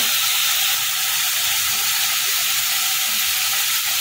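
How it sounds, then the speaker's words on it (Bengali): Ground spice paste for bhetki fish kalia fries in hot oil, a loud, dense, unbroken hiss of sizzling that holds steady throughout without pauses. "মশলাটা হালকা করে ভেজে নেব।"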